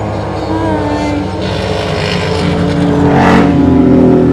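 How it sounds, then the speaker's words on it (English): Motorcycles roar past a racetrack-side spot, a continuous loud engine drone with harmonic whine that swells toward the end as they pass close by. "Got some motorcycles going by."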